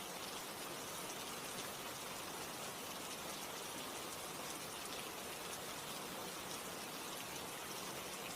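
Steady rain falls without a break, a dense even hiss of drops with no thunder or voices, constant in loudness from start to finish.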